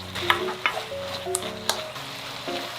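Eggplant stir-frying in a pan, a steady sizzle punctuated by repeated scraping strokes of a spatula, close and moderately loud.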